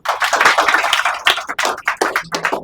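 Applause from a small audience at a stage-fear training session, a dense burst of clapping that thins into scattered separate claps, fairly loud and close.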